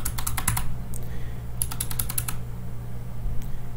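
Bursts of quick computer keyboard keystrokes in two clusters with a pause between, close and fairly loud over a steady low hum, as keys are pressed to move through a terminal file manager.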